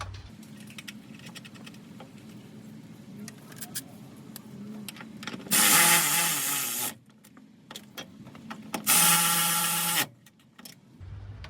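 Master brake cylinder bolted onto a 1995 Ford F150, heard as close metallic clicks and taps of a tool, with two loud bursts of ratcheting or wrench noise in the middle, no talking.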